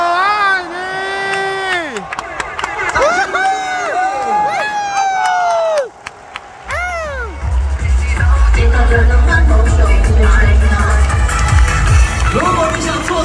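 A packed crowd at Taipei Dome for a Chinese Taipei versus Czech Republic baseball warm-up game chants and cheers for an encore, with loud rising shouted calls, then a massed roar of cheering over heavy low rumble.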